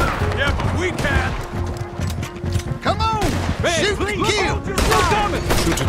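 Gunfire from a Western-era shootout in the video game Red Dead Redemption 2, scattered shots and crashes mixed with loud game music and characters talking throughout.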